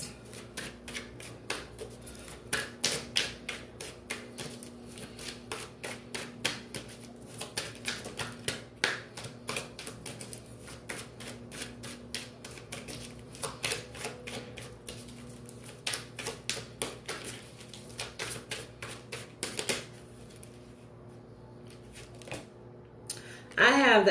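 Tarot cards being shuffled by hand, a steady run of soft riffling clicks and taps close to the microphone, with a brief louder burst at the very end.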